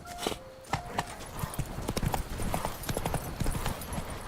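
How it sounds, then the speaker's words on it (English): Horse hooves gallop at a steady clip-clop rhythm in The Witcher 3: Wild Hunt, close and fairly loud, with a brief snort or whinny near the start and ambient game sound behind. "Even a horse drops if you ride it at a constant gallop."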